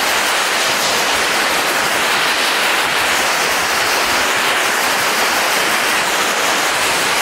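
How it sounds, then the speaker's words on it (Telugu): Rushing water from Soochipara waterfalls roars steadily and loudly throughout, a dense unbroken wash of noise like a nearby waterfall, with no voices. "ఆ వాటర్ సౌండ్ వినిపిస్తుందా? చాలా బాగుంది."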